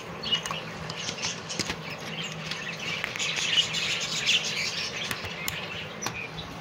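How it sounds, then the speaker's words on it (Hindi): Chicks in a bird enclosure chirp in a soft, busy chorus of high tweets, with occasional sharper peeps and light pattering over a quiet background, heard fairly close and without speech. "चिक्सों की आवाज़ आ रही है"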